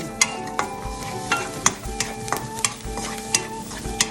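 Spatula scrapes and stirs chili, shallots and garlic against a hot wok in a steady rhythm, with a constant sizzle underneath, close and fairly loud, no talking.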